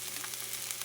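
Chopped onions hitting a hot pan for cauliflower fried rice, giving off a brief, steady, hissing sizzle at low volume.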